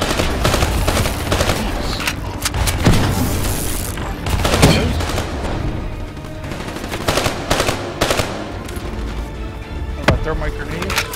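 Rapid automatic gunfire rattles in bursts in the video game Call of Duty Black Ops 3, with sharp repeated shots and booms over a busy game mix while a player talks at times.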